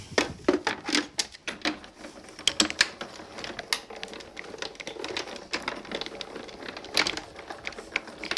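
Paper for a faux buckle card being trimmed with a die-cutting machine, giving a rapid series of close mechanical clicks and snaps with an irregular rhythm, with no talking.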